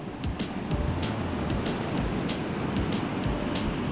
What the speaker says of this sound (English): the waves are pretty rough today.